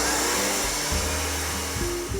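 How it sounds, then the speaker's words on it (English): A countertop blender whirs steadily as it purees a Thai green curry pesto, a loud continuous motor drone with shifting pitch as the blades churn through the ingredients. "I'm gonna start blending."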